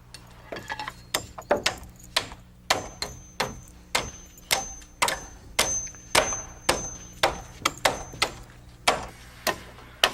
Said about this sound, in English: lapping 2 or 3 rafter bays and nail them together